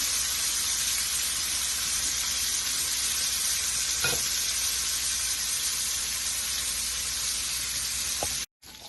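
Lamb chops sizzle steadily in a frying pan, a loud, even hiss that fills the whole stretch with only a faint clink partway through before cutting out near the end.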